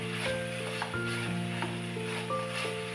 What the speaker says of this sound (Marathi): त्यामध्ये आपण टाकूया गवार आणि हे सुद्धा मिक्स करूया